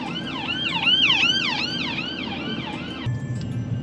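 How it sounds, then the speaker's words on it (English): A wailing ambulance siren sweeps up and down repeatedly over steady road noise, loud and close, then cuts off abruptly near the end. "Oh yeah. Ambulance."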